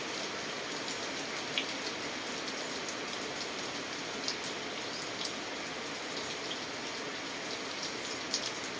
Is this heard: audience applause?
no